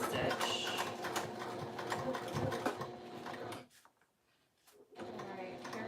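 A sewing machine runs a back-stitched seam on a fabric Midnight Kiss pouch, a steady close mechanical chatter for several seconds that drops out briefly, then resumes with a short burst.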